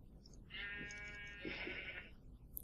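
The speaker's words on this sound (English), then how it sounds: "There's a sheep down here." A single drawn-out sheep bleat in the video game Minecraft, clear and moderately close, lasting about a second and a half against a quiet background.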